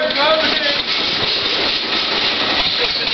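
A 1973 Volkswagen Van engine runs steadily and loudly up close, a continuous rough mechanical drone with slight surging as the throttle is pumped, no pauses throughout.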